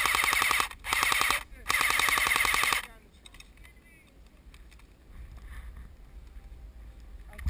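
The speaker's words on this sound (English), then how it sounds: "Give me some cover fire, bro." Airsoft guns fire in rapid bursts during an outdoor skirmish, loud and close for the first three seconds with brief gaps, then give way to quieter wind and rustling.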